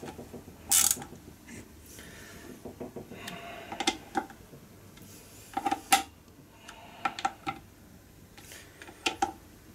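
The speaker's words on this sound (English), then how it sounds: "so all I gotta do is put the screws in." Screws are driven into a Mitsubishi/Mazda alternator housing with a ratcheting tool, making close, crisp clicking bursts in irregular runs over a quiet background, with one sharper knock near the start.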